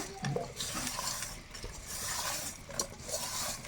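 Sliced okra being stirred and tossed with salt and chili powder in a pan, a steady scraping and rustling with faint clinks of a utensil against the pan, continuous and fairly close without talk.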